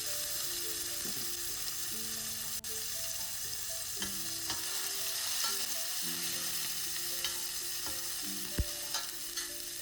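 Tomato, green chillies and fresh curry leaves sizzle and fry steadily in a pan for a pesarattu upma, with occasional clinks and scrapes of a stirring spoon against the metal over continuous frying.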